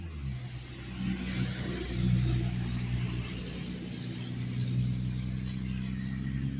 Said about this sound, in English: Very loud vehicle, sorry.